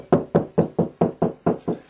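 Knuckles rap a cavity wall eight times in a quick, even series, each knock close and hollow-sounding, with a slight change in tone near the end while checking for a stud.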